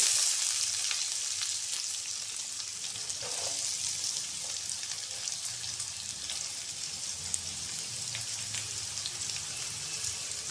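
Onions frying in hot oil for carrot palya, a steady, fairly faint crackling sizzle that continues evenly throughout with no speech.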